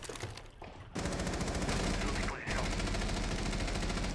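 Video game gunfire erupts in rapid automatic bursts, loud and continuous, with a short break near the start and a brief dip partway through.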